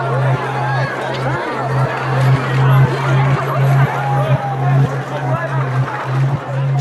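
Dense crowd of people pressing forward at an evacuation in Afghanistan, a loud continuous babble of many voices with a steady rhythmic thumping underneath.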